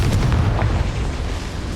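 A Confringo fire spell goes off in Hogwarts Legacy with a heavy rumbling blast, a dense low boom that carries through the whole moment without fading, with no voices over it.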